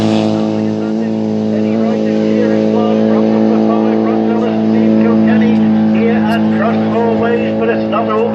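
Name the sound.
racing cars coming down the track towards the commentator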